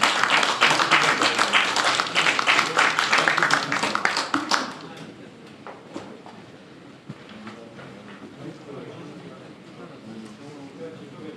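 Applause at a Korean defense industry policy seminar welcomes a KAIST professor to the podium: dense, loud clapping fills the first four seconds, then fades into a quieter room with scattered sounds and voices.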